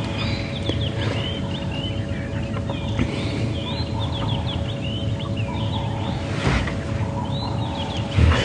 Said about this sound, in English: the birds go crazy after a night of rain. Robins calling,